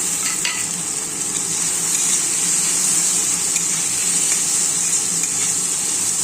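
Potatoes frying with spices in a hot pan, a steady loud sizzle that holds evenly throughout with faint stirring scrapes, no talking.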